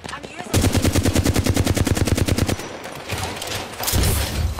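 Rapid automatic gunfire in a battle royale video game, a fast steady burst of shots lasting about two seconds, loud and close, followed by quieter game sounds and brief bursts of noise.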